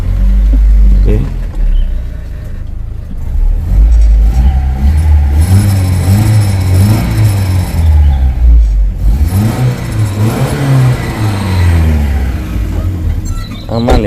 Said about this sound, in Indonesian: kita coba hidupkan mesin